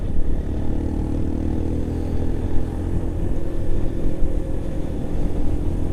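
A motorcycle engine drones steadily at low pitch, with slight swells in revs throughout, loud and close with no talking.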